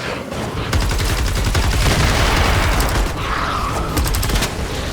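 Rapid bursts of video game gunfire rattle almost continuously through a hectic firefight, loud and close, with sharp mechanical clicks and clatter layered over the shots.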